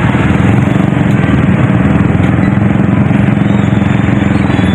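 Engines idle and rumble in slow, congested street traffic in Pasig, a loud, continuous, close drone with a steady throbbing pulse and no pauses or talking.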